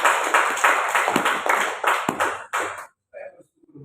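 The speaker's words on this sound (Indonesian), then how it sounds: "Tepuk tangan Tuhan." Church congregation clapping in rhythmic bursts, loud and close, mixed with voices, then breaking off into near silence with a few faint sounds after.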